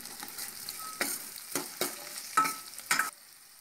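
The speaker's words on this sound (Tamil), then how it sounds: "வெங்காயம் வந்து நல்லா வதங்கி வரணும், அந்தளவுக்கு நல்லா வதக்கிக்கோங்க" Onions sauté in hot oil with rock salt, the soft sizzle punctuated by four or five crisp stirring scrapes of a spoon against the pan at regular intervals, close and clear with no talking.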